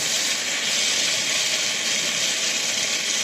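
Vegetables steam in a covered pan during home cooking, a steady, loud, even hiss with no break, and no voices over it.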